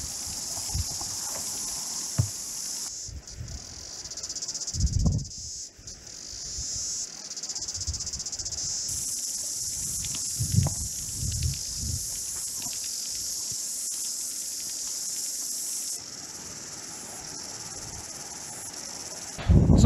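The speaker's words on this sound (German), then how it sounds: "So, jetzt sind wir einmal durch den Zikadenwald durch." Cicadas in a New Zealand coastal forest keep up a steady, dense high-pitched drone from start to finish, with soft footsteps and rustling on the trail beneath it.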